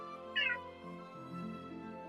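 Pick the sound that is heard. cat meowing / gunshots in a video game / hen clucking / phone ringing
cat meowing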